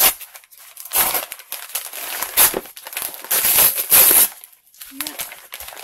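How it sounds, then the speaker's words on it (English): A padded Amazon envelope is torn open by hand, giving bursts of loud crinkling, ripping and rustling that come and go in uneven waves, close to the listener. "Maybe I can just tear it open here."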